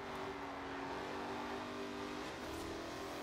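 Car engine in the Forza Horizon 4 racing video game, a steady, fairly subdued hum with a brief pitch dip near the end, continuous throughout with no talk.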